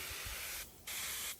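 Two bursts of Sprayway cleaner hiss from an aerosol can in a car trunk on a 1995 Chevrolet Impala SS, a long close spray, a brief stop, then a second spray.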